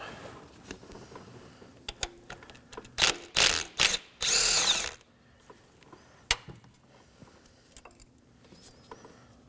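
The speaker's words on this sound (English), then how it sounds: "Now I'm going to go ahead and remove the 10mm bolt holding the ignition coil down." Ratchet working the 10mm bolt that holds down the ignition coil on a 2018-2024 Chevrolet Equinox 1.5L L4, heard as close, loud bursts of clicking and grinding mechanical noise in the middle, with lighter clicks before and after.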